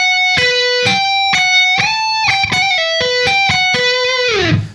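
A melodic electric guitar phrase from a solo, distinct picked notes with slides and bends, ending on a note that drops away, played alone and clearly.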